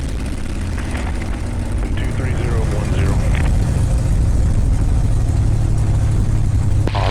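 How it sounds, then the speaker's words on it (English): A light aircraft engine, set at 2,300 RPM and making about 28 inches of manifold pressure, drones steadily and loudly the whole time in a continuous low rumble, with faint talk barely showing through. "That's a good strong engine there."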